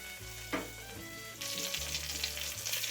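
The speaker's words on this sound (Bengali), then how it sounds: "বেগুনগুলো একটু হয়ে এলে এপিট ওপিট করে ভালোভাবে এটাকে ফ্রাই করে নিতে হবে" Eggplant slices sizzle in a hot pan, a steady crackling fry that grows louder partway through over a low hum.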